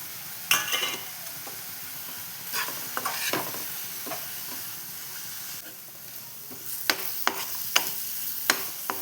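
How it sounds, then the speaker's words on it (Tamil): Chili powder, turmeric and garam masala sizzle and fry in a hot pan, with scraping stirs and clinks of a spatula at irregular intervals over a steady crackle. "மசாலாலாம் போட்டு நல்லா வதக்கி விட்டுக்கோங்க."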